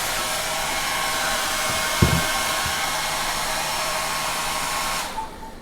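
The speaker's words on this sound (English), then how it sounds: "I'm just going to hold this blow dryer up to this tubing, coil of tubing, and just heat it" Handheld blow dryer blowing hot air onto a coil of refrigerator tubing: a steady, loud whooshing drone with a brief knock partway through, cutting off near the end.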